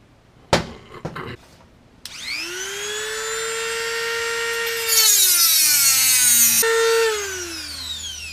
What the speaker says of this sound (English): As I'm grinding this out,